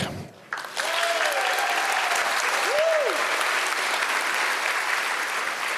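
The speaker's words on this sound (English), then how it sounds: "give them a round of applause" Applause from a charity event audience starts abruptly after a brief pause and continues as a loud, even wash of clapping, with faint voices and whoops rising above it.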